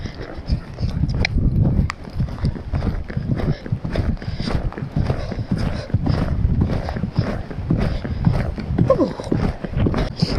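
A horse cantering during interval fitness work at home, its hoof beats thudding in a quick, repeated rhythm close by, with a person's voice talking faintly underneath.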